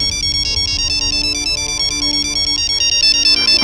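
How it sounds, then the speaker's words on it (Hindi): A phone ringtone plays a loud, continuous electronic melody in a home setting, repeating steadily with no voices over it. "पापा का फोन"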